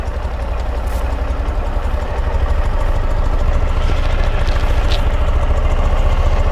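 A 2012 Ural Gear Up sidecar motorcycle idling close by, its low, even engine rumble running steadily throughout and growing slightly louder partway through, with no talking.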